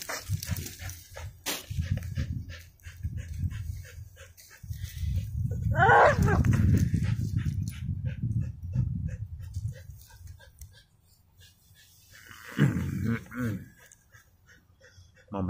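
A dog named Mandinka whimpers and makes vocal sounds in a few short, rising bursts, set against steady low rumbling background noise and people talking.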